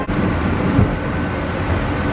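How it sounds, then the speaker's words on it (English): An incline railway car climbing a steep mountain grade, giving a steady close rumble and rolling mechanical noise throughout with no talk. "I did not know I was going to start my morning with an incline train ride today"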